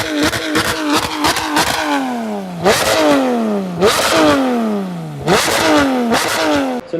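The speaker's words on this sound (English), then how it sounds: "In the edit right now, we'll play a clip of our GT3 system." A Porsche GT3 fitted with a Valvetronic Designs exhaust revs hard in repeated bursts, each a loud rising snarl followed by a falling pitch as the revs drop, with sharp crackles between blips.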